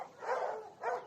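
Two barks from a dog kept in a cage under full sun, mid-distance and moderately loud, with a short gap between them and no talk.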